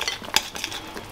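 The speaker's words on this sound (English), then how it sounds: "Give it a stir." Food being stirred in a pan, with a brief scrape and clink of a utensil against the pan, close and short, with a faint sizzle underneath.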